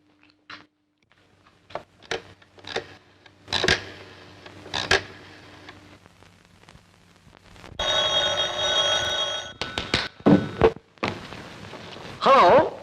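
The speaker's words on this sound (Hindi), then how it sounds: "टेलीफोन।" An old desk telephone rings in a garage office in a classic Hindi film scene: a bright, sustained bell burst of about two seconds comes after scattered speech and knocks, and a voice follows right after.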